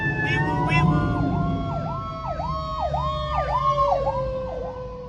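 An emergency vehicle siren wails in a steady repeating wee-woo sweep, loud and fairly close over low traffic rumble, with a brief voice near the start.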